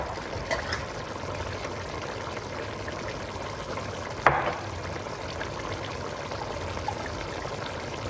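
Liquid from an opened can of beans pours and trickles out steadily into a kitchen sink for several seconds, a soft continuous watery stream with one brief clatter partway through.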